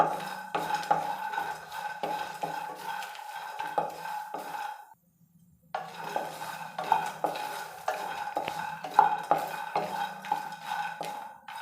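Peanuts, coconut, dried chillies and garlic being dry-roasted in a pan, with repeated rhythmic scraping and clinking of a spatula against metal, a brief pause midway, then steady stirring again, close and clear.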